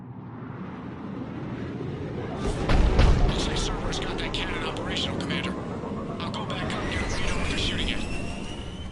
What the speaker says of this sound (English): let's find the control room for those cannons